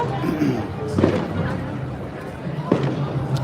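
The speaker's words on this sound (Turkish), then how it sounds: "Havai fişekler başlıyor." Two far-off fireworks bursts from a ship at the Main riverbank festival in 2025, about a second and a half apart, boom over ambient outdoor noise and faint nearby chatter.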